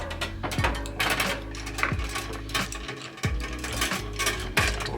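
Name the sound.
pipe cutter cutting a brake line tube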